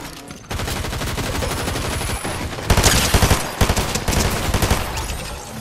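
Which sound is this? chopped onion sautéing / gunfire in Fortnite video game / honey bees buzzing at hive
gunfire in Fortnite video game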